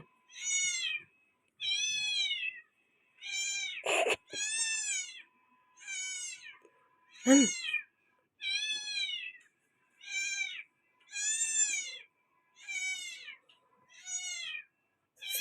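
A cat meows repeatedly in a steady, evenly spaced series of drawn-out cries, close and clear in an otherwise quiet room.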